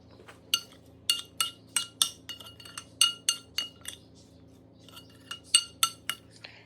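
A chickpea shawarma salad with fresh parsley and cilantro is mixed gently in a bowl, giving a series of close, crisp utensil clinks in uneven bursts with short pauses, no talking.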